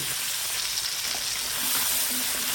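Onions and potatoes fry in hot oil with a steady, broadband sizzle that holds at even, close loudness throughout without a break.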